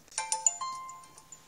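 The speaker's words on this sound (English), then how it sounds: "Someone's texted me." Phone text message alert, a short bright chiming tone of a few quick rising notes with ringing overtones, clear and alone against near silence.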